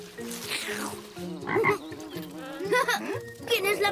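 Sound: frog croaking

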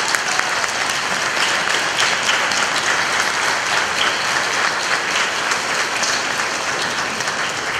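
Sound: applause

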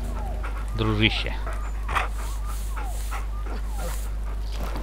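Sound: wounded dog whimpering in Far Cry Primal video game

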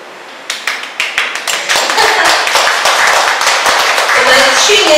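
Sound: audience applause

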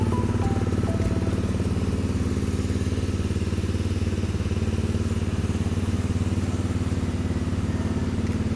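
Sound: Honda CRF250 Rally motorcycle exhaust running

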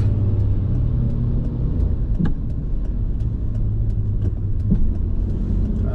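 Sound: road traffic with passing cars

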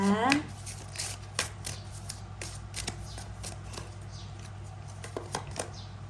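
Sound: oracle cards being shuffled

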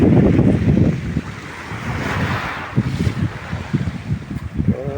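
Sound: wind at the seashore

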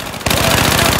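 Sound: MTAR assault rifle gunfire in Battlefield 4 video game

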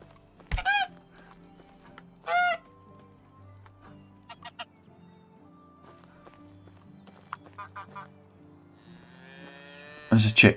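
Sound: duck and cattle in video game Medieval Dynasty

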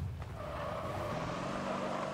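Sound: Warthog vehicle driving in the video game Halo Reach

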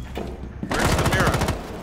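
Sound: Desert Eagle gunfire in Rainbow Six Siege video game

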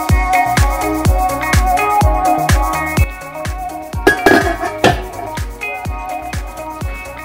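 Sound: pot lid covering rice pot, fork fluffing rice

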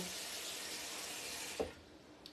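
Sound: water running from kitchen tap

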